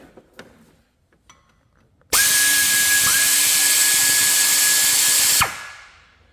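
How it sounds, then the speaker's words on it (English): A 1/4 inch air ratchet spinning bolts off a 2004 Jeep Grand Cherokee, one loud continuous high whine lasting about three seconds after quiet shop clatter, then hissing down as the trigger releases. "we'll see if the 1/4 inch air ratchet will take it off"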